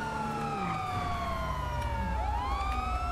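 A police car siren wails in GTA 5, a loud, close electronic tone sweeping down and then rising again over low traffic rumble, with no one talking.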